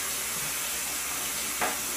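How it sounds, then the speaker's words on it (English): Running tap water pours steadily over a synthetic 24 mm shaving brush being rinsed clean of lather, a constant close hiss with one brief splash near the end. "Rinsing the brush"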